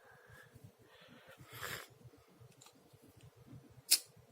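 A Real Steel Metamorph G5 MKII folding knife with a loosely tightened pivot lets its blade drop shut, a single sharp metallic click near the end amid quiet handling noise.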